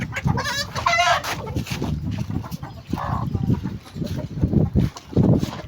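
Chickens clucking in a backyard coop, repeated short clucks and cackles close to the microphone, with a brief higher call partway through over continuous low noise.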